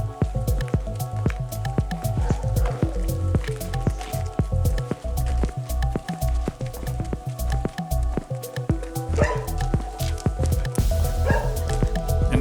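A dog barks repeatedly during a walk along a sandy track by a river, a steady run of close woofs over rustling, squishing footsteps, with little talk.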